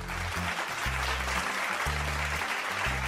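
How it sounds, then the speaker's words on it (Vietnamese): A television dating show studio audience claps to welcome a contestant named Hoàng Huy. Steady applause runs throughout over loud, pulsing low music. "Cùng dành một tràng vỗ tay để chào đón Hoàng Huy."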